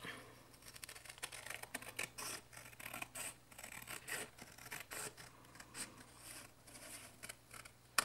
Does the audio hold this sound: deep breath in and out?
no